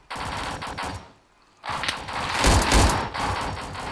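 Rapid gunfire bursts from a Roblox PVE shooter game, loud dense automatic shots that cut out for a moment of near quiet before resuming even heavier, with no talk.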